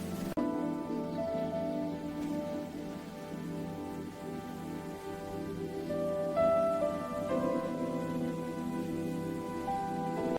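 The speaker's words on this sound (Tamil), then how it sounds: "இந்த மழை நம்மை காப்பாத்துச்சு." Steady rain falling on farmland, an even, continuous hiss of drops with faint tonal background sounds, moderately quiet and without speech.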